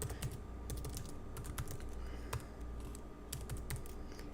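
Rapid, steady typing on a computer keyboard while entering a web address, with dense overlapping key clicks running continuously at close range over a low room hum.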